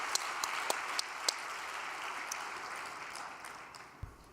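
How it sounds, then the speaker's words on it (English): Applause from a gathered congregation at a religious meeting on a cold winter day, a dense steady clapping throughout with a few sharper claps standing out, fading slightly toward the end. "Why don't we give a big round of applause for them?"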